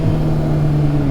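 Kawasaki Ninja ZX-6R sport motorcycle engine revving while riding, a loud, close, buzzing engine tone that holds steady and then dips slightly in pitch over about a second.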